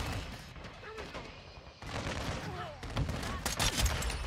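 Gunfire in a first-person shooter video game, a mid-distance spatter of shots and short bursts building in density toward the end over a busy game soundscape.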